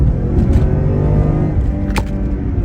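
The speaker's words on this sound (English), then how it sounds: "I'm gonna hit the gas and show you how quick it steps down now." A car with an automatic transmission in sport mode accelerates hard, giving a continuous low engine rumble heard from inside, fairly loud, with a short brighter surge near the end.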